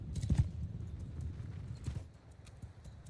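Horse archers' hooves in the game Bannerlord, a brief burst of clip-clop early on, then quieter scattered hoofbeats and a faint thud near two seconds, all fairly distant.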